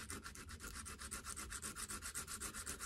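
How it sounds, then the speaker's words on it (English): A small piece of 80 grit sandpaper held flat and rubbed over a wooden crossbow part to remove saw marks, giving a fast, even rhythm of soft scratchy strokes, close but quiet, with no voices. "get yourself a little piece of sandpaper and hold it flat against the surface"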